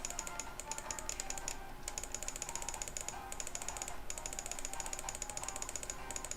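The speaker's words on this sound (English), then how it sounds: "Sorry if you hear that clicking, way too much clicking. I'm scrolling on the text." A computer mouse scroll wheel clicking rapidly during scrolling: dense bursts of fine ratcheting clicks that stop briefly and start again several times, close and fairly quiet, with no speech.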